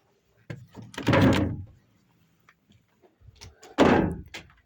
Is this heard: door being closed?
yes